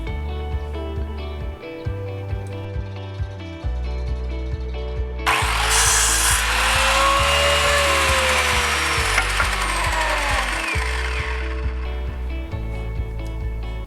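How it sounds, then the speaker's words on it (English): A power saw cuts wooden planks into pointed picket shapes for a garden fence, with loud sustained cutting and a steady buzzing motor hum that changes in pitch as the blade works through the wood. "I am cutting the planks into pointy shapes that you will see as we go along on the video"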